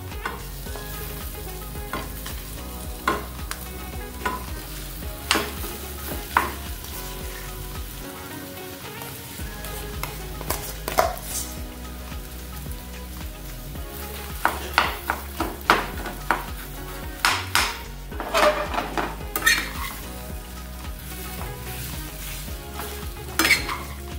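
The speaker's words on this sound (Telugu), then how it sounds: "ఇందులోకి మన ఆలుగడ్డ మిశ్రమం అంతా వేసుకోవాలి" Potato sandwich filling being stirred in a frying pan, with steady close scraping and stirring strokes over a soft continuous sizzle, no voices.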